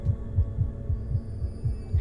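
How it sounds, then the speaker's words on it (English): A steady game heartbeat from the horror title Evil Inside thumps in a low, regular rhythm of about seven beats, paired lub-dub pulses over a faint hum with no talk. "You hear that heartbeat in the background?"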